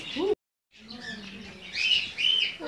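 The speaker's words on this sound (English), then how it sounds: "look at the birds at the top there, darling." Birds chirp and tweet at a farm in the UK, with bright bursts of calls rising in the second half, partly mixed with nearby voices.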